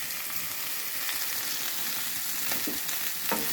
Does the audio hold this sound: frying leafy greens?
yes